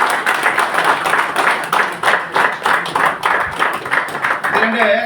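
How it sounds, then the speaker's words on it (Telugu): Audience at a fishermen's caste welfare association meeting in Nellore clapping together, a loud, close, rhythmic run of claps lasting several seconds before a voice comes in near the end. "మీరు కొట్టే చప్పట్లు"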